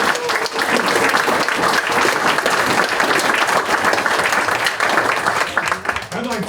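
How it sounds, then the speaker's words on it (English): An audience at a city council meeting breaks into sustained applause, dense steady clapping that holds throughout before tapering slightly at the end. "Let's give them all a great big round of applause."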